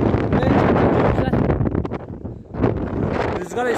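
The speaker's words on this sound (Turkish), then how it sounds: "Rüzgar esiyor." Wind gusting across an open hillside where a herder tends a large flock of goats with guard dogs, a loud broadband buffeting on the microphone that dips briefly and returns, with voices faintly under it.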